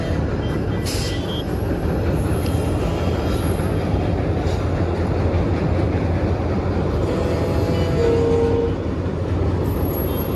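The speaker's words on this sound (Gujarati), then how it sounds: "એની ટ્રેન જાય બ્રિજ ઉપરથી" A train rumbles steadily across a bridge at Rameswaram, with a dense, continuous rolling roar and occasional faint squeals of metal wheels.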